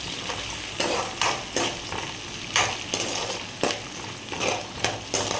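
Peanuts frying in a pan are stirred with a spoon: a steady sizzle under repeated scraping strokes about every half second, close and fairly quiet, with no voices.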